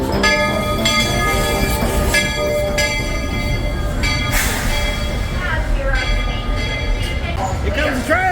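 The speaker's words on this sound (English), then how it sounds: "Here comes the train!" A theme park train rolls in with a steady, loud rumble, metallic wheel squeals and ringing tones, while voices carry over the top.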